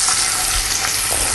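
Chicken drumsticks fry in oil in a hot pan, giving a loud, steady, close sizzle that fills the whole short stretch with no voices over it.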